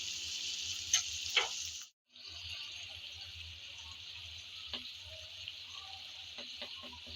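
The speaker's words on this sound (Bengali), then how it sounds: "চিংড়িগুলো দিয়ে আবারও একটু নেড়ে চেড়ে ভালোভাবে বেজে নিচ্ছি" Prawns being stirred and fried in a pan for prawn pickle, a soft steady sizzle with a brief dropout, then scattered light scrapes and taps of a spatula, quiet and close.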